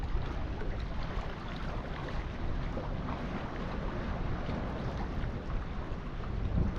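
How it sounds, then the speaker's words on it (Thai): Strong wind buffeting the microphone on a fishing pier at Hat Won beach, a continuous loud rumbling gust with no break and no voices. "นี่จะมีลมหน่อย"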